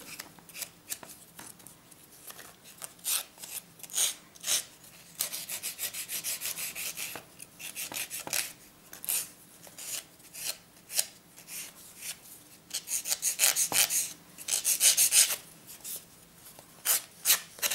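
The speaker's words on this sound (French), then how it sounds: "Un petit coup de lime pour que ça soit bien droit et joli" A file rasps along the edge of a paper pull-tab card in repeated short strokes, close and brisk, with a longer run of rapid back-and-forth scraping partway through.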